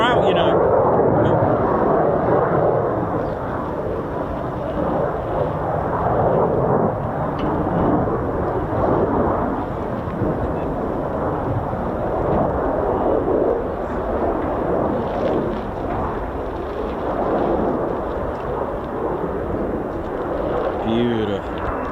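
F-15 and F-35 fighter jets taking off at RAF Lakenheath, a continuous heavy roar of jet engines rumbling throughout, loud and sustained under occasional talk.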